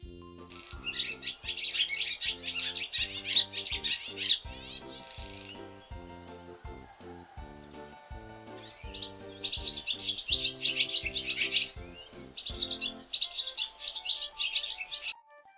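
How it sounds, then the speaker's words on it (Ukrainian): A barn swallow twitters and chirps in bright, rapid bursts over a steady plucked musical accompaniment, with no talking. "Давайте послухаємо, як співає ластівка."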